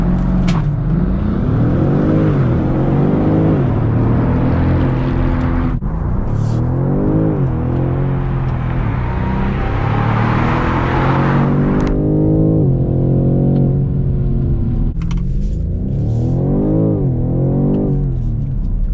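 A 2020 BMW M850i Cabriolet accelerates hard near the camera, its loud engine climbing through several rising rev sweeps with brief drops between gear changes, close and dominant with no talk.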